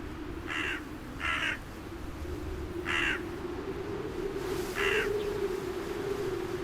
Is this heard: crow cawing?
yes